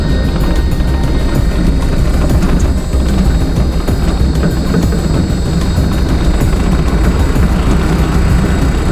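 Electric excavator creeping down a very steep hill, a loud, constant rumbling drone with dense low machinery noise and no voices.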